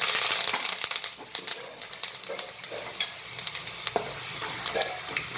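Curry leaves fry in hot oil with peanuts for a ragi and bajri millet chevda, crackling and sputtering in sharp bursts over a soft sizzle, with occasional stirring clinks.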